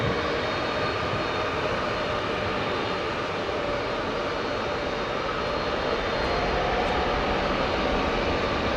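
RwandAir Airbus A330-300 jet engines spooling up for takeoff at Heathrow Airport, a steady broad roar that holds at a constant level for the whole stretch, with no talk over it.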